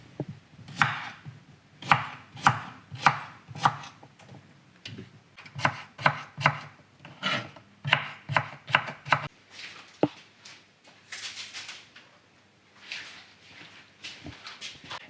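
A knife slices vegetables into very thin, long pieces on a cutting board as they are prepared for fermenting in a ceramic crock. Close, rhythmic strikes come in quick bursts separated by short pauses.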